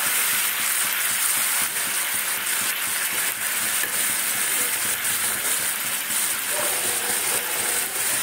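Hot water poured into a pan of chickpeas, giving a loud, continuous close-up sizzle and hiss that holds steady throughout with no talking.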